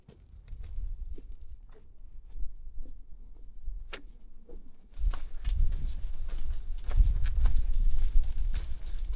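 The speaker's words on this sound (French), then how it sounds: "Il y a beaucoup de petits chevaux comme ça, hein, un peu partout." Small horses walk on a rocky mountain track in Nepal, with a few faint hoof knocks at first and then louder, denser clopping and rustling steps. Wind-like rumble sits underneath.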